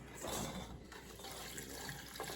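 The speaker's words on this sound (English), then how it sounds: "we're going to add in our water, 5 cups of water" Water poured from a tap into a cooking pot, five cups being added for home-canned apple pie filling; a steady splashing, filling sound close by for a couple of seconds with no talking.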